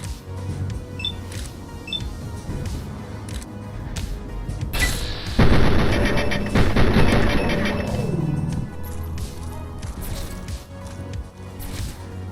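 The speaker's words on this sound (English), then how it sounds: "You keep shooting at the Mirelurk." Gunfire aimed at a Mirelurk in the video game Fallout 3, a burst of loud crashing shots and impacts in the middle of the clip, with quieter game sounds before and after and no talking.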